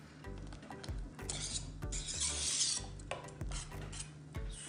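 A spoon stirs cocoa pudding with melting milk chocolate in a pot, a steady scraping and rasping rhythm with soft clinks against the metal, close and fairly quiet with no voices.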